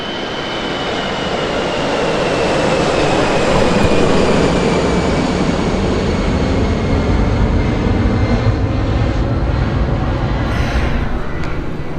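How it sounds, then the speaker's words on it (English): Airplane passing overhead near an airport in Sabah, Borneo, a loud steady jet roar that swells toward the middle and lingers throughout, with no voices. "I hear these planes all day, every day so far"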